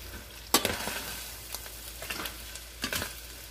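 Sausage and potatoes fry in a pan for a breakfast pizza pie, a steady sizzle broken by a sharp clatter, then a few scraping stirs and light clinks at close range, with no speech.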